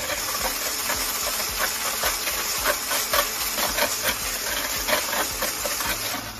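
A loud, steady whirring hiss of an electric mixer whipping egg whites with salt runs without pause, with faint rhythmic scraping against a bowl.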